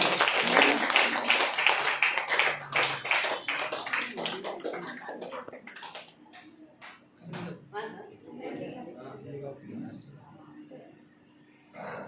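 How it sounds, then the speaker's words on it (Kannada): A crowd at a new product opening function applauds with dense, close clapping that fills the first few seconds, then thins out and fades as voices talk over the room. "ಜೋರಾಗಿ ಚಪ್ಪಾಳೆ ಯಾವಾಗೋಸ್ಕರ"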